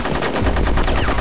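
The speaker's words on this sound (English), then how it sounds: "Oh, you're shooting me from up there?" Rapid bursts of gunfire in the Conker's Bad Fur Day war level, with continuous machine-gun-style shots rattling loudly and densely for the whole stretch.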